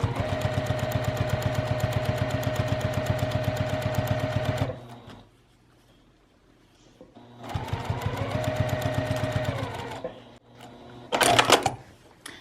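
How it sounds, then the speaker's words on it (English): A sewing machine stitches binding along the edge of a layered sewing machine mat in fast rhythmic bursts, pausing in quiet gaps, followed by a short rattling clatter near the end. "I'm gonna run a stitch right down this edge to secure all 3 of my layers plus my binding"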